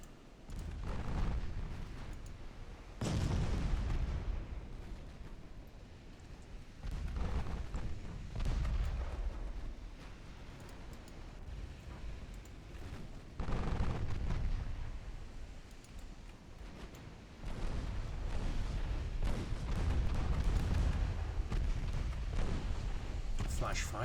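Torpedo hits and explosions in a naval battle video game, with deep booming blasts rolling one after another through the whole stretch, some hard-edged impacts standing out in a dense, rumbling wash of battle noise.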